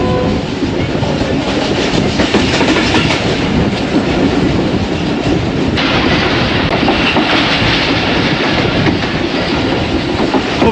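The 101UP Subk Raftar train runs on rails near Lahore with a loud, steady rumble and a rhythmic clatter of wheels that carries on without a break and has no voices over it.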